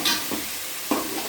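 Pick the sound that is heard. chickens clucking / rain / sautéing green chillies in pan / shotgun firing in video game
sautéing green chillies in pan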